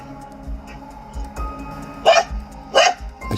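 Guard dogs at a mango orchard in Jabalpur, Madhya Pradesh, giving two loud barks close together over a low background murmur.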